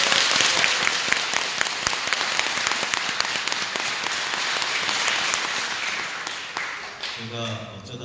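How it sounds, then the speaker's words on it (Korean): A large audience at a Buddhist dharma assembly bursts into sustained, loud applause that fills several seconds, then thins and fades out at the end. "우리 금우스님 수고하신 거에 대해서 큰 박수를 먼저."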